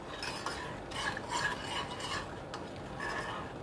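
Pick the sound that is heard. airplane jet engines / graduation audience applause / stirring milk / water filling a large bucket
stirring milk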